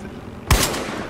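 A single sharp, loud gunshot rings out in the Battlefield Hardline video game, with a short tail of echo fading behind it and no talk.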